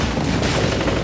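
Dense, continuous gunfire with explosions from the first-person shooter Wolfenstein, a loud, unbroken barrage of shots and blasts filling the whole moment with no voices over it.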